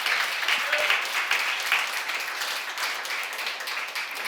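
Congregation at a church seminar applauding together, a steady dense wash of clapping that holds evenly from start to finish with no pause.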